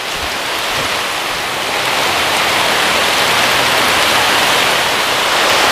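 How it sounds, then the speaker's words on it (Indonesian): Heavy rain pouring down outdoors near a treehouse at night, a loud, dense, steady hiss that swells slightly stronger as it continues, with no voices. "Ini hujannya."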